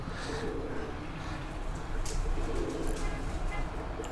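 Pure golden pigeons coo in a loft, soft repeated throaty calls under a dense background of rustling and other bird sounds at close range.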